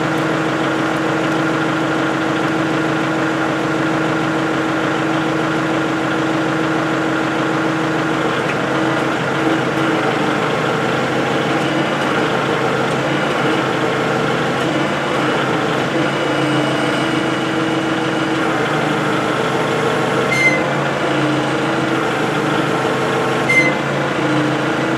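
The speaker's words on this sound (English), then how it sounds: "now I'm going to go energize the hydraulic cylinder" An engine drives a homemade hydraulic post hole digger down-pressure unit with a pressure relief valve, droning steadily and fairly loud throughout, with a few faint clicks near the end.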